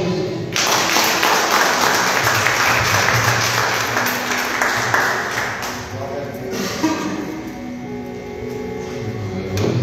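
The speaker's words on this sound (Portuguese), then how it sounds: "Aplaude o Senhor Jesus." A church congregation breaks into loud, sustained applause, dense clapping that fills the room for several seconds before tapering off, with scattered voices and a few sharp taps underneath.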